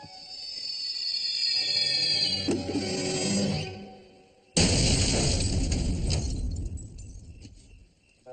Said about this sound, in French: désolé pour la détonation